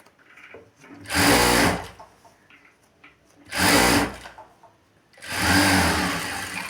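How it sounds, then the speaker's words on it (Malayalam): A domestic sewing machine stitches a folded cloth bag strap in three loud, close bursts of rapid whirring, with quiet pauses and faint handling noise between runs. "അതൊന്ന് മുഴുവനായിട്ട് സ്റ്റിച്ച് ചെയ്ത് കൊടുക്കാം"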